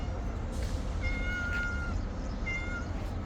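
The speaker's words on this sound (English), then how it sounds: "I can hear the puss" A cat meows outdoors near a path, two or three short high meows over heavy wind and rumbling background noise, fairly faint and distant.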